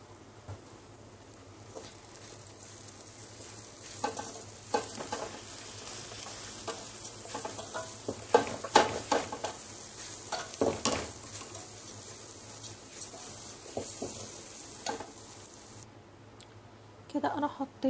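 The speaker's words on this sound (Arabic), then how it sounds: "بعد ما شوحت الرز كده شويه مع الملح" Basmati rice sautéed with salt in a pot gives a soft sizzle with intermittent scraping stirs, faint and close, while someone talks over it at times.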